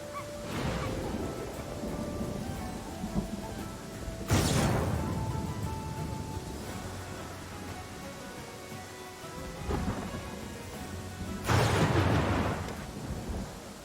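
Steady heavy rain pours throughout a video game scene, broken by three loud rolling thunderclaps spaced several seconds apart.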